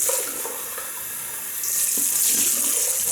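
Tap water runs steadily into a sink while shaving cream is rinsed off, a continuous close hiss of flowing water that swells slightly louder toward the end.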